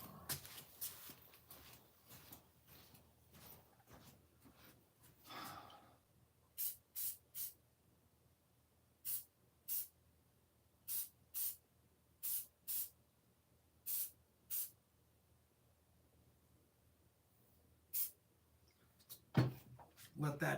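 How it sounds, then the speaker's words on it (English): Short bursts of aerosol spray paint hit a slot car part, about a dozen separate hisses in an uneven rhythm, close and fairly loud, following some handling noise at the start. "I gotta spray that."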